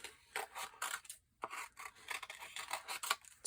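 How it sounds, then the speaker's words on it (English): Big scissors snip through sheets of paper while cutting out paper flower layers, a quiet close run of crisp, rhythmic cutting strokes with a brief pause midway. "So I'm just using my big scissors"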